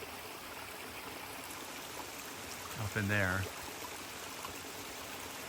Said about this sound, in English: here's a little bit of water, and we're making our way down to this creek